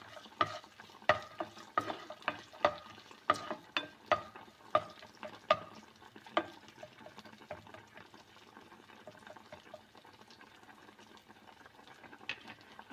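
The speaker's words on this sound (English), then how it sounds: "And in this I'm going to add some cashews, kismis. So you have to fry these things." Cashews and raisins fry in a pan for seviyan kheer, with a soft, steady sizzle under a quick run of sharp spoon clicks and scrapes that fade into gentler bubbling frying.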